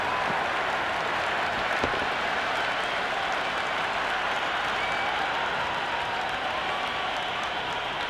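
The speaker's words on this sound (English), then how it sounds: "It is the most enthusiastic crowd you could ever see right now. There's a buzz, a real buzz coming from the stands." A stadium crowd cheers in the Cricket 26 video game during an Ashes Test match, a dense and steady roar of applause that fills the whole stretch without a break.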